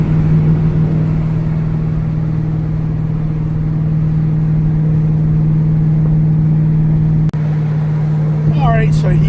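A Ford Mustang GT350 drives with a steady low engine drone throughout, holding an even pitch, with a brief dip near the end followed by faint rising tones.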